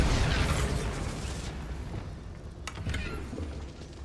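A Bombarda spell blast in Hogwarts Legacy, a loud booming explosion with a rumbling burst up front that tapers into a debris-like decay and a small crackle later, no talking.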